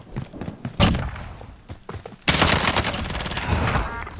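Bursts of rapid gunfire ring out in Call of Duty: Modern Warfare, loud nearby shots with a heavy sustained volley in the second half.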